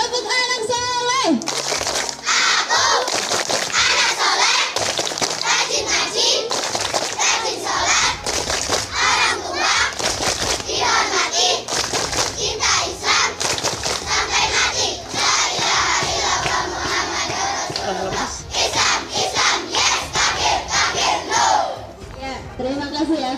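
Schoolchildren in an Indonesian classroom chant the rhythmic "tepuk anak soleh" cheer in unison, loud and close, with sharp claps punctuating the shouted verses throughout, a few voices and crinkling sounds mixed in.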